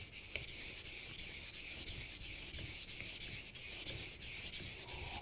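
A Global kitchen knife has its outside edge sharpened in steady, rhythmic strokes, about a dozen even scraping passes close up with a bright gritty hiss and no voices.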